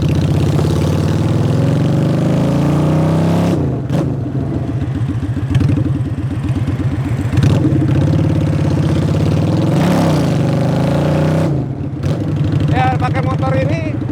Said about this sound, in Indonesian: Ini sebenarnya Honda Shadow ya, 2 silinder V-twin.